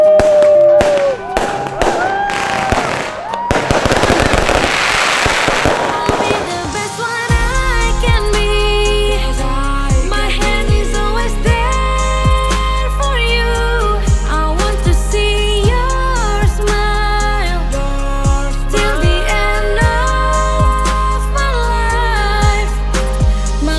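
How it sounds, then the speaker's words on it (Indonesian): Fireworks and firecrackers at a Lebaran celebration: a rapid burst of crackling pops in the opening seconds, then drowned out by loud music that plays for the rest of the stretch. "Kita mau lihat petasan dulu bentar."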